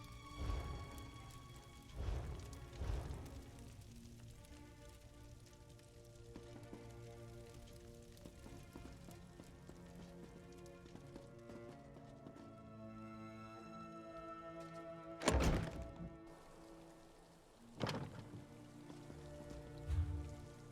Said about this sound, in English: The heavy rainstorm outside.